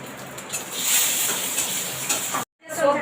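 Bay leaf and whole spices crackle as they temper in a small amount of hot oil, giving a steady broadband sizzle with a few faint stirring scrapes before the sound cuts out near the end.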